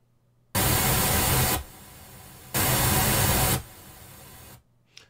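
A full-scale white noise test signal plays loudly for about a second, drops to a much quieter hiss attenuated by 24 dB, then the loud burst and quieter hiss repeat before stopping.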